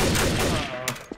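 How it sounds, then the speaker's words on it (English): Gunfire from Trouble in Terrorist Town comes as a short, loud burst of rapid shots that fades quickly, followed by a couple of faint clicks. "Too much shooting at people!"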